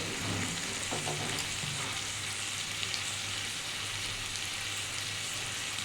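Ginger-garlic paste and chili powder frying in a pan as a spicy base for a katla fish curry with potato, drumstick and parwal, a steady dense sizzle that holds for several seconds with no talk.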